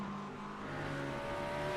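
A McLaren GT3 race car engine in a sim racing game, a steady droning engine note climbing gently in pitch as it accelerates, heard alone and fairly quiet.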